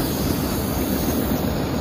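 Train at Rawalpindi railway station with a rail car and locomotive standing at the platform, giving a steady, dense rumble and wheel noise throughout, close and loud, with no talk.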